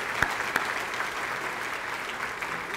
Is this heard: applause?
yes